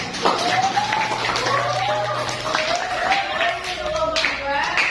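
Students in a classroom clap for a presenting group, a steady patter of applause through the whole stretch, with voices calling out over it.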